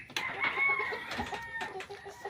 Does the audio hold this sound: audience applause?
no